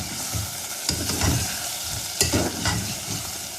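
Ginger garlic paste fries in a pan while being stirred for a beef and purslane curry, giving a close, continuous sizzle broken by rhythmic spoon scrapes and a couple of sharper clacks, no speech.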